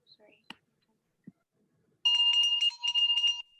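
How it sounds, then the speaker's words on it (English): A small bell rung to check the sound, giving a bright ringing burst with rapid repeated strikes after a few faint clicks and a short voice sound at the start. "I'm gonna test out the bell."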